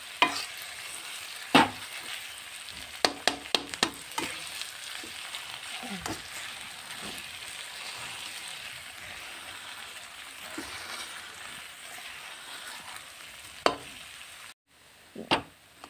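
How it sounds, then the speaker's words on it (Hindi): Mashed potatoes being stirred and fried in a pan for a dosa filling: a continuous soft sizzle with irregular scraping and stirring knocks, close up, ending in a short quiet gap and a couple of louder clatters. "अब इसको इसी तरह चलाते हुए 2 मिनट के लिए और भून लेंगे"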